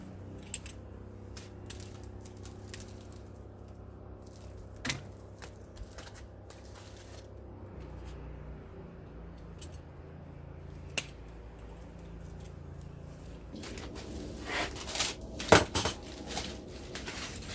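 Air-layered fig tree branches are cut outdoors with sharp, isolated metallic snips and clicks from the cutting tool over a quiet background, with a busier cluster of rustling and clipping near the end.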